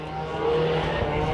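Race cars drafting nose to tail into turn 1 during a heat race at Chowchilla Raceway, a continuous engine drone with held pitched tones that swells slightly midway, fairly close and with no voices.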